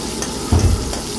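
Tomatoes frying in a pan give off a loud, continuous sizzle, with a brief stirring scrape in the middle.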